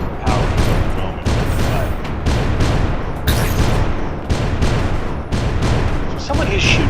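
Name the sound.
gunfire hitting the ship in the video game Cubic Odyssey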